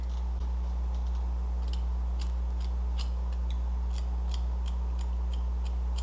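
Scissors snipping long layers into thin hair, a series of small crisp clicks spaced irregularly over a steady low hum, close but quiet, with no talking.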